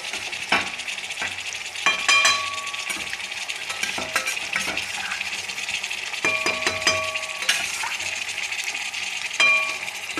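Spice mix is added to stuffed round squash (chappan kaddu) sizzling in a pan: a continuous frying hiss is broken by repeated metallic clinks and scrapes of a spoon against the pan.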